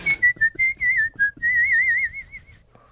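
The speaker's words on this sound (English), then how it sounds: "I could whistle." A person whistles a quick wavering tune up close and loud, starting with short chirpy notes and then moving into a long warbling run that fades out.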